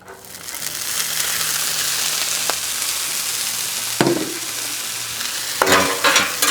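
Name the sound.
corn and black beans frying in canola oil on flat top griddle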